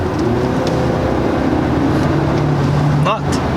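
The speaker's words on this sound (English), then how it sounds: "let's try put it in sport mode to see how much power we can actually push out of this thing" A 2019 Hyundai Santa Fe's 4-cylinder engine accelerates in sport mode, a steady, loud drone heard from inside the cabin with road rumble underneath.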